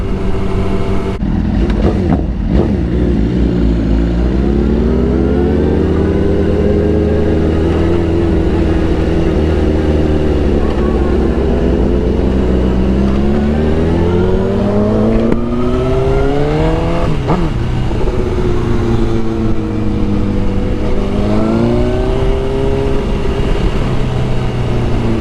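Motorcycles cruise on the road, a loud, steady engine drone with rising and falling pitch sweeps as the riders shift and throttle, wind rushing throughout.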